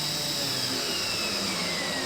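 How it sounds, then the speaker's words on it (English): A power drill whirs continuously into a thin plywood subfloor in a van build, a steady, close motor whine with a rising pitch and no talking over it. "I think I need to drill it a little bit slower."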